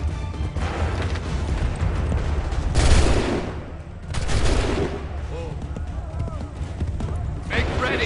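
Musket volleys crack out in the video game Assassin's Creed 3, heavy layered blasts over a busy battle din with hoofbeats and shouting voices throughout.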